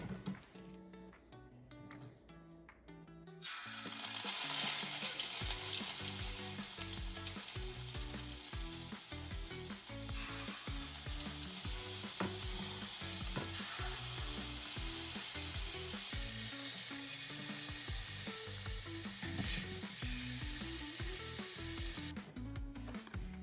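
Scallops hit a piping hot pan and sear with a loud, steady close-up sizzle that starts abruptly after a few quiet seconds and holds evenly, with faint occasional taps, no talking.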